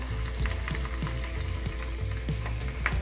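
Breaded shrimp fry in a small pan of hot oil over medium heat, giving a steady close sizzle with scattered pops and crackles across the whole stretch, and no voices.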